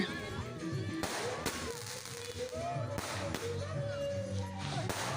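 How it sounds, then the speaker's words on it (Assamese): Sharp firecracker bangs burst out a few times at a wedding, loud and close, over background chatter and music. "এইফালে ফটকা ফুটাই আছে"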